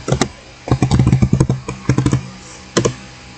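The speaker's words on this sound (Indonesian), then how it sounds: "di sini setelah login saya akan ketik perintah juga IP address" Keystrokes on a computer keyboard as a command is typed at a Linux terminal: close, crisp clusters of rapid key clicks in bursts, with a short pause and a final pair of strokes near the end.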